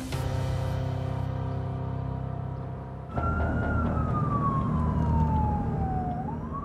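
Ambulance siren wailing loudly and close, first a steady multi-tone blare, then after a sharp switch a single rising-then-falling sweeping wail over engine rumble.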